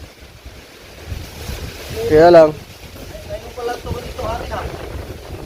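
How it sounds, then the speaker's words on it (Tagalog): Strong storm wind blows past coconut palms, a rushing, buffeting roar that hits the microphone in gusts, while people talk briefly over it. "Lakas ng hangin, oh."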